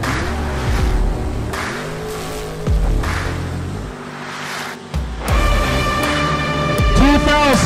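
A dragster launches at a drag strip, its loud engine roaring and fading as it pulls away, then a second burst of high-revving race engines with tire noise, under a track announcer's voice.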